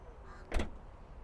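A passenger door on a 2025 Volvo XC90 T8 Ultra seven-seater shuts once with a short, moderately loud thud up close, alone with no voices.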